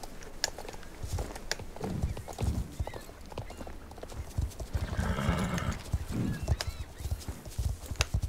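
Horse hooves clip-clop steadily in Star Stable Online, mixed with a whinny and neighing from the shying horse, close and fairly loud with game ambience.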